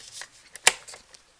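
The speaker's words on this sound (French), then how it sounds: "je vais venir couper ici ces lignes que je viens de tracer" A paper trimmer blade slices along traced lines on paper, a single crisp close cut with a few faint rustles around it.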